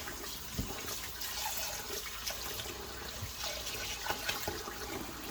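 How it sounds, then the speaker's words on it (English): Water from washing rice being drained off from a pan, a steady broad splashing pour with a few small splashes, continuous and close, no talk. "Drain off all the water, people, I use to wash the rice."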